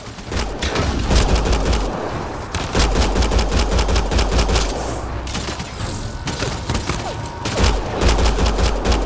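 Sustained automatic gunfire in the sci-fi shooter Mass Effect Andromeda, loud, dense rapid bursts with heavy low thumps, pausing briefly around the second and ninth seconds before resuming.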